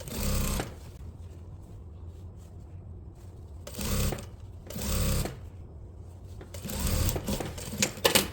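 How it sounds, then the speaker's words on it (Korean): A sewing machine stitches a tracksuit top in several short bursts of rapid loud chattering, separated by quiet pauses with faint handling of fabric. "이제 요선이랑 봉제하러 갑니다"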